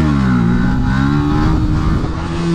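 A Yamaha R125 motorcycle engine revs hard and close as the front lifts into a wheelie, a loud sustained buzzing drone with slightly rising pitch and no talk.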